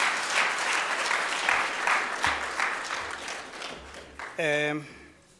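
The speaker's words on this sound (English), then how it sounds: "Round of applause, please." An audience at a lecture gives a steady round of applause that fades out after about four seconds, and then a voice briefly begins speaking.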